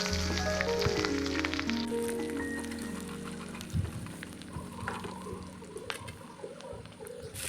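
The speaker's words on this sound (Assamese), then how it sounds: "ইয়াতে এতিয়া তেল দি দিলোঁ আৰু তেলখিনি গৰম হৈ যোৱাৰ লগে ইয়াত মই পিঁয়াজ জলকীয়া" Chopped onion and green chilli frying in hot oil in a small wok, giving a faint, steady sizzle with occasional light stirring clicks and scrapes.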